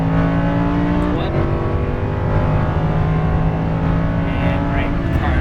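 Lamborghini Huracan LP610-4 engine droning loudly and steadily on a track, with a brief shift around one second and a steady rising pitch, under a driving instructor's continuous coaching voice.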